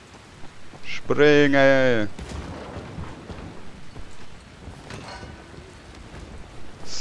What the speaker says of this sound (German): Also heisst es wieder raus in die, weite Regenwelt. Es regnet.